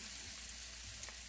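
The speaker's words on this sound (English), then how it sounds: "Give that another stir." Food fries quietly in a pan topped with gravy during Sunday dinner cooking, a soft continuous sizzle with a brief scrape of stirring near the end.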